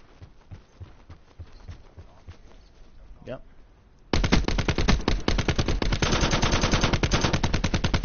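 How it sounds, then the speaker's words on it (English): Gunfire in Call of Duty Black Ops 4 Blackout begins as scattered distant shots under movement sounds, then erupts into loud, rapid automatic fire with evenly spaced rhythmic bursts that continue to the end. "Oh shit, I'm being shot at."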